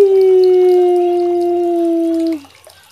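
A dog gives a loud, sustained howl on a porch in Puna at night, one long steady tone that holds for over two seconds and then cuts off, with no talk over it.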